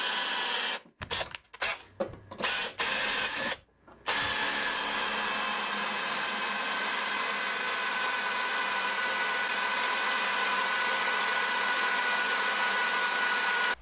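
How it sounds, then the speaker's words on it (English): Power drill boring out spot welds on the front A-pillar of a Mercury Sable during rocker panel replacement, several short bursts at first, then one long continuous loud whine close by. "we got a few spot welds here at this front A-pillar to drill out"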